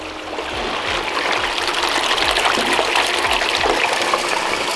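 Water carrying ironstone and heavy gravel streams steadily down a gold sluice, a loud, continuous rushing gush with faint rattling of stones throughout.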